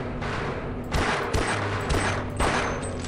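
Rapid bursts of gunfire in the video game Half-Life crackle in quick succession, loud and dense, with a few sharper shots punctuating the steady volley.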